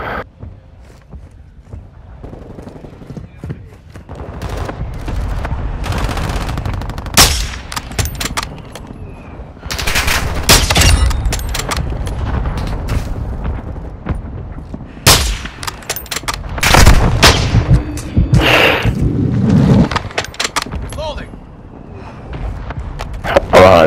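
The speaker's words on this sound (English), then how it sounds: "Friendly mortar strike inbound." Mortar strike blasts and rapid gunfire from Call of Duty: Modern Warfare II Domination, with repeated heavy booms and bursts of shots spread across the clip, loud and close, sometimes clustered, with footsteps between volleys.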